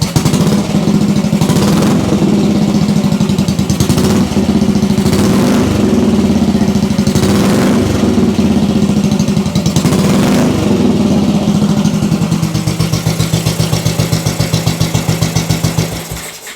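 Custom bobber motorcycle engine idling close by with a steady, loping, slightly uneven thump that continues throughout, then fades at the end as it shuts off.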